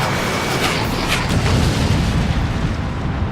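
Missile striking its target in the Ace Combat Infinity video game, heard as a loud, sustained roaring blast with deep rumbling low end and broad crackling hiss, holding steady for several seconds without a distinct single pop and with no voices.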